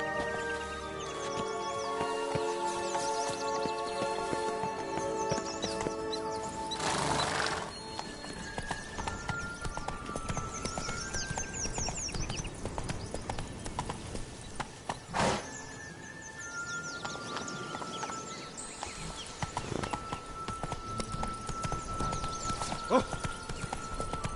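Roach the horse trotting in The Witcher 3, steady clip-clop hoofbeats throughout with neighs and whinnies, background music and a brief line of speech layered over it.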